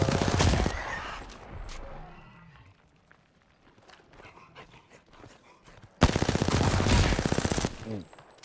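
Rapid automatic gunfire in Apex Legends, two loud close bursts at the start and again near the end, with quieter footsteps and movement sounds in between.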